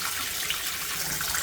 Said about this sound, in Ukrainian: Так виглядає умивальник. Вода гаряча.